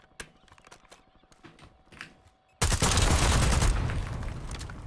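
Gunfire from a revolver in a video game: a sudden loud, dense burst of shots and blasts erupts midway after quieter clicking and light movement sounds, continuing as a sustained barrage to the end.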